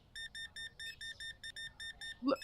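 A steady run of short electronic checkout scanner beeps in a supermarket simulator game, about a dozen in even rhythm, then a brief louder chirp at the end.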